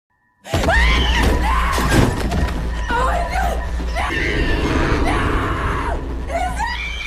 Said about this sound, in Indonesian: Kemudian Laura mendadak berteriak histeris.